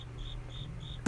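Crickets chirp in steady, evenly spaced bursts, faint and distant against a low outdoor background hum, ending with a short knock.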